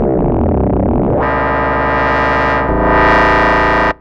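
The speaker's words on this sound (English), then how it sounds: "I'm just getting loads of mad, dirty, disgusting, growly tones without really trying." Synthesizer run through its filter, churning out dirty, distorted, growling tones that shift in timbre partway through, a dense sustained buzz lasting about four seconds and cutting off abruptly, with no talking.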